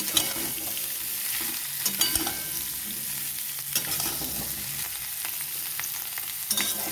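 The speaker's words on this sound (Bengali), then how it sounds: "এইভাবে কিছুক্ষণ ভালো করে ভেজে নিতে হবে।" Cauliflower pieces sizzle steadily in hot oil, with repeated scrapes and knocks of a spatula stirring them in the pan, close and without talk.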